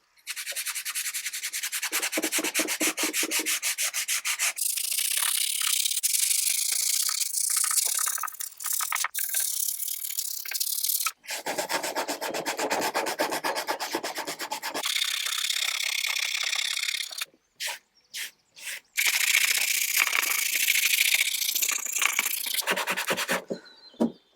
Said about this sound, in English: I think I need to give this light sanding because there's lots of loose pieces that will come off anyway